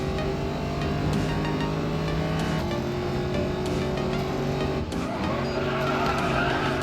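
A Mercedes SL63 in the Racing Master game skids and accelerates hard, with a loud, continuous engine roar and tire screech throughout and no talking.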